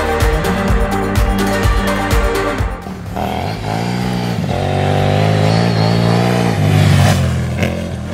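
Loud dirt bike engine close by on a climb at Monegros, rapid throttle blips at first, then a sustained rising and falling rev as it labors under load.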